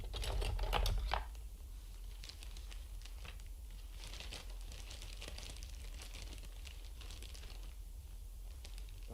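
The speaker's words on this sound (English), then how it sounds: "let's open it up and find out" Unwrapping a mail package: a loud crinkle of packaging at the start, then a run of small tapping, rustling and scraping handling sounds at moderate level, with no talk.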